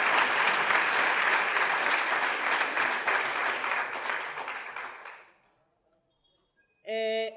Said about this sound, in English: I want us to please, again, give our comrade a round of applause